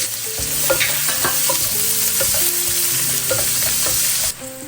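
Onion sautés loudly in a pan for seafood penne pasta, a dense steady sizzle with utensil scrapes and clinks, fading slightly near the end.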